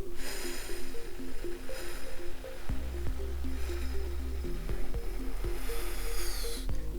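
A long, steady exhale of air from a singer doing a breathing exercise, with a breathy hiss rising and fading over a constant low hum and faint music.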